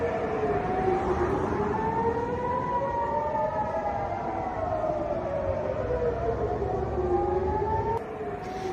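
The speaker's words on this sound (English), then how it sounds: "sirens warning of incoming rockets from Gaza sounded in Jerusalem for the first time since October 30" A rocket warning siren in Jerusalem wails continuously, its pitch rising and falling in slow sweeps over several seconds, heard from a distance with no talk.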